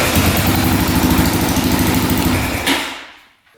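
A quad ATV engine idles loud and close with a fast, steady putter, then cuts off and dies away to near silence at the end.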